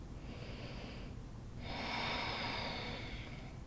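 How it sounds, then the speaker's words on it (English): Slow, deep breathing during a yoga stretch: a soft, airy inhale followed by a longer, fuller and louder exhale through the nose, heard close and alone. "We'll breathe here for 3"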